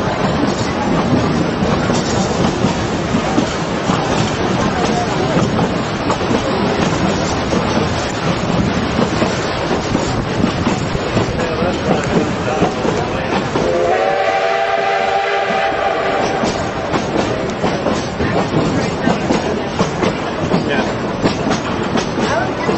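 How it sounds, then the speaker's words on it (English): The Durango and Silverton railroad train rolls along with a steady loud clickety-clack and rumble of the cars, and a long whistle blast sounds midway through the ride. "we're on the train. We just left Durango."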